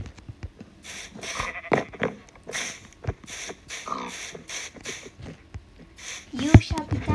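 Sheep in the Minecraft video game give repeated short bleats, loud and close, over a player talking steadily.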